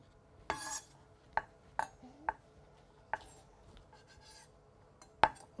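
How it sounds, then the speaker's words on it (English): A knife finely slicing a pile of carrot julienne on a board, giving sparse, crisp chopping taps spaced irregularly a second or so apart against a quiet background. "And from there we hold our pile of carrot, and then slicing those just as we did with baton, very finely."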